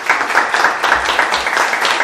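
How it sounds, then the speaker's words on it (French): Audience applause for the publisher Éditions Urubu at a public talk, a steady, dense wash of many hands clapping close by that holds evenly for about two seconds with no voices over it. "Je pense qu'on peut encore donner une immense main d'applaudissements aux éditions Urubu."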